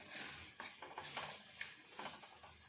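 Stone mortar pounding of tomato pickle chutney ingredients in a home kitchen, coarse grinding with repeated dull thuds and scraping knocks in an irregular rhythm, close and moderately loud with no talk.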